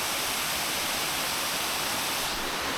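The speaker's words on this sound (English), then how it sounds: "I found a waterfall." Broadband rushing water of a waterfall found outdoors, a steady, dense roar with no breaks, heard fairly close and alone without talk.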